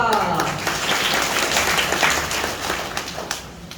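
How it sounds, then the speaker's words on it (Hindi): Children applaud at a school event in Bhinmal, a steady wash of clapping that runs through the whole stretch and tapers slightly near the end, with a teacher's voice speaking over it. "तालियां बजाओ उनके लिए"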